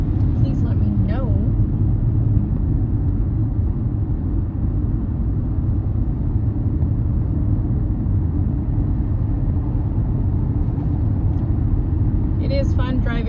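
Steady low engine rumble and road noise from inside a car moving through Seattle traffic, a continuous close drone with no breaks and faint brief clicks near the start and end.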